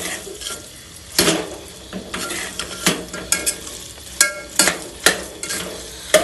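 Chicken is stirred into macaroni in a pan: a spoon scrapes in repeated loud, close strokes over a soft, continuous sizzle.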